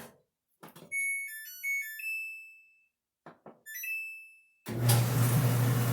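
A Samsung dryer (model DV45H7000EW/A2), just fitted with a new belt, tensioner and drum rollers, sounds several electronic beeping chimes in two bursts, then its motor and drum start with a steady, loud rumbling hum.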